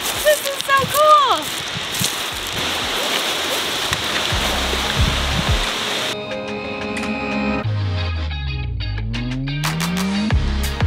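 Steady rushing roar of Baxter's Harbour Waterfall, reached at low tide by a rocky shore, fills the first half, then gives way to tonal music-like sounds over fainter background noise.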